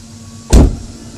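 An electric motor in a BMW E31 840Ci converted to EV power revs once in a short, loud, turbine-like whoosh that swells and fades within about a quarter second.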